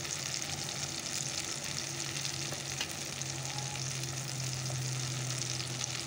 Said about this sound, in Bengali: চলো এবার মশলাগুলো দিয়ে ভালো করে কষিয়ে নিই